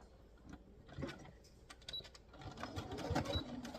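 A sewing machine stitches forward and then backward through vintage bedsheet fabric. It makes quiet, rapid mechanical chattering in short bursts that grow denser and louder toward the end, with no talking.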